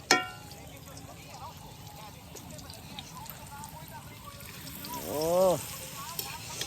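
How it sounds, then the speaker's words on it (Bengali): Chicken wings fry in hot oil over a picnic fire, giving a steady hiss and crackle under loud, lively talk, with a brief bubbling surge near the end. "চিকেন উইংস ভাজা হচ্ছে"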